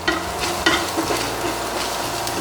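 Finely chopped garlic and asafoetida frying in oil in a pan for black chana sundal, a close, steady sizzle with the scrape and clatter of stirring throughout.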